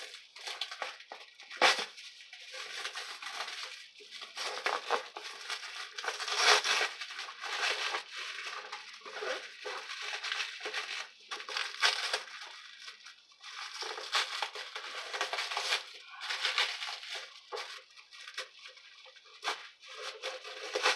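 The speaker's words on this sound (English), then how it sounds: "be careful when you're taking these legs out of the packaging, because they're very flimsy plastic too." Flimsy plastic packaging is pulled off furniture legs in repeated crinkling and rustling bursts, close and irregular, with no voices.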